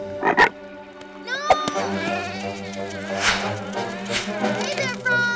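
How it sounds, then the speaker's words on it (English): A cartoon frog at a pond croaks in throaty, warbling calls, near and fairly loud, over a buzzing insect-like drone and a steady musical background. "Hey there, frog!"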